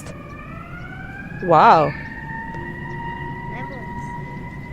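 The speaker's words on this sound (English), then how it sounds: "Ambulance, yeah." Passing ambulance siren rises and falls as a faint, wavering wail in the background, while a person speaks briefly near the microphone partway through.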